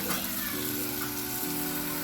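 Kashmiri chili powder and turmeric are sautéed in a pan for a fish curry, making a brief, gentle close sizzle with faint stirring.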